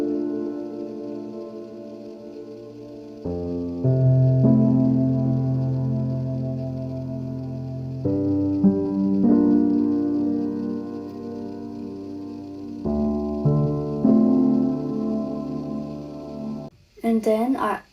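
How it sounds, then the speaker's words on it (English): Layered Cinema Layer piano preset from Analog Lab, shaped with EQ, heavy reverb and motion, plays sustained shimmering chords that shift every few seconds, swelling and washing into one another before a brief break and a short bright burst at the end. "start with a piano sound from Analog Lab called Cinema Layer"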